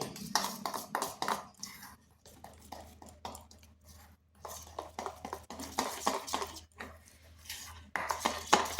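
A spoon knocks and scrapes repeatedly inside a bowl while patty dough is mixed with flour and cornflour, giving irregular close clinks and scuffs with short pauses between strokes.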